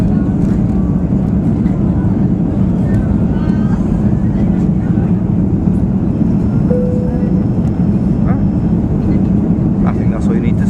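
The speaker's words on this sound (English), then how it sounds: "Hope you enjoyed the takeoff." An airplane takes off, heard from inside the cabin as a loud, unbroken engine and air roar that holds steady throughout, with faint small rattles on top.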